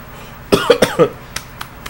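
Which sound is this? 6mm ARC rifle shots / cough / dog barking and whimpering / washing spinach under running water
cough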